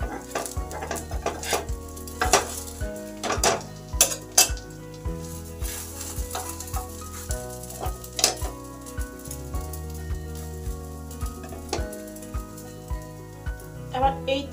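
Patishapta pitha browning on a hot tawa gives a quiet, steady sizzle under repeated sharp clinks and scrapes of a utensil against the pan, irregular taps spread throughout.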